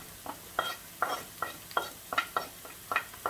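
Carrot being sautéed in a frying pan, rhythmic scraping and stirring strokes about twice a second over a soft sizzle, close and moderately loud.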